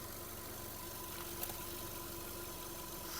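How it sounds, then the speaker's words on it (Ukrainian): A Volkswagen Touran engine idles with a steady, even mechanical hum and faint ticking, recorded close with no speech over it. "Робота двигуна."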